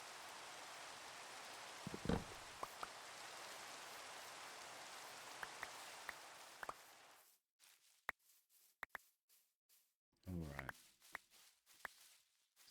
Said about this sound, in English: I have to admit, I do like the rain sounds.